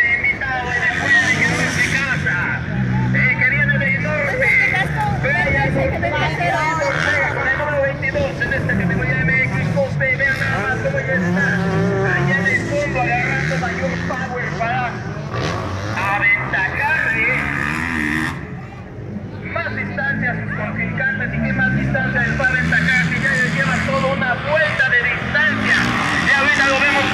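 Motocross motorcycles racing at a rural dirt-track event in San Luis Temalacayuca, Puebla, their engines buzzing and revving steadily under nearly continuous commentary from an announcer.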